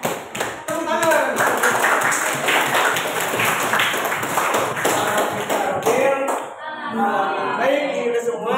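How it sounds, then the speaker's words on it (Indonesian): An indoor audience claps hands together in a dense, sustained burst of applause, with voices talking over and around the clapping. "Tepuk tangan."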